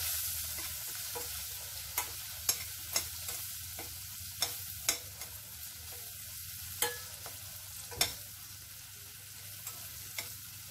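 Green chillies and salt are stirred in a pan while a low sizzle runs underneath. Sharp, irregular scrapes and taps of the spoon on the metal stand out. No one speaks.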